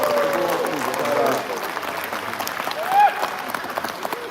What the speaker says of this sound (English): give a big round of applause to all the women who are